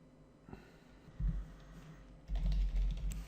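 Close computer keyboard typing while entering PHP code, with a few scattered clicks, then two bursts of rapid keystrokes over faint low background hum.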